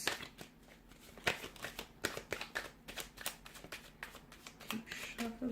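Tarot cards are shuffled close up in quick, papery riffles and taps, quiet and continuous with a few sharper snaps.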